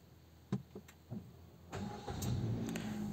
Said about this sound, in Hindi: तो चलिए गाड़ी को स्टार्ट करते हैं